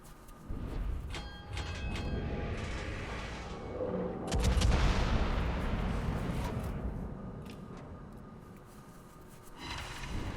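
Warship guns in World of Warships firing at destroyers, heavy booming salvos with a swelling rumbling blast near the middle and sharper cracks scattered around it, over a mechanical background.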